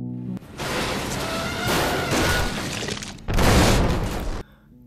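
A military car crashes off a bridge and explodes, heard as loud, dense crashing and shattering bursts with a sharp cutoff near the end, mixed with a steady music-like bed.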